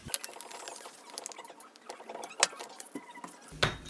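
Scissors cut through painted paper patterns for a collage, making rapid, crisp snipping and crackling paper rustle close up, with a sharper snip near the end.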